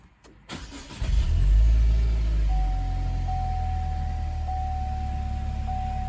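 A Buick Regal GS with a newly installed starter cranks briefly and fires up, then settles into a steady, close idle with no one speaking.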